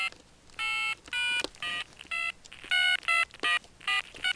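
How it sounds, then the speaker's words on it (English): An old telephone's touch-tone keypad sends out a string of about a dozen short, loud DTMF dialing tones in an irregular rhythm, close by and with no talking, over a faint background hiss. "If I change this to tone dialing, this one's very loud, so I can press buttons and you can hear it."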